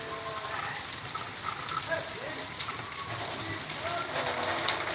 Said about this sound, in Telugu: మధ్యాహ్నం మూడు గంటల తర్వాత మొదలైన వర్షం సన్నని తుంపర్లా కురుస్తున్న దృశ్యాలు